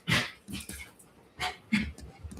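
A dog plays tug of war, giving short growly whines and huffs in several separate bursts at fairly close range.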